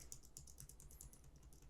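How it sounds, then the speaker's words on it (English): The A key on a computer keyboard is pressed over and over in an even rhythm, soft close taps repeating about every quarter second in a quiet room. "keep typing A."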